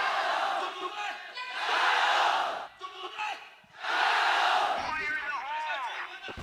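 Esports arena crowd at a Counter-Strike grand final roaring and cheering loudly for Vici, in two sustained swells of shouting with a brief dip between, ending in scattered whoops.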